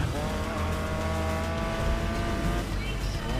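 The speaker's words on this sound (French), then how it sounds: "La voiture est partie totalement en dérapage." Race car in the GRID Legends racing game sliding into a skid, steady loud engine drone with tonal whine and tire scrub running continuously for a few seconds, no voices over it.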